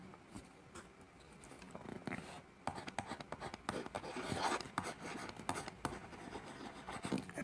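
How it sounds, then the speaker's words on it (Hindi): Pen writing out a class 10 probability exercise on face cards, a quiet, steady scratching and rubbing across the surface with brief pauses between strokes. "इसमें तीसरा पार्ट लिखते हैं।"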